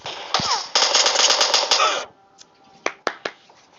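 Video game gunfire: a rapid automatic burst of sharp, loud shots lasting about two seconds, followed by a few separate single cracks after a short pause.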